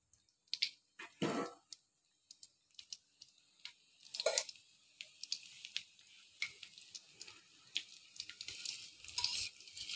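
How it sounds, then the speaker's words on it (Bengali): Chopped garlic and dal spice tempering in hot oil give a quiet, intermittent sizzle with sharp crackles and pops spread through the stretch, close by and with no talking. "তেলটা গরম হয়ে এসেছে, এতে দিয়ে দিচ্ছি আমি একটু রসুন কুচি, সাথে দিলাম ডাল মশলা ফোড়নে"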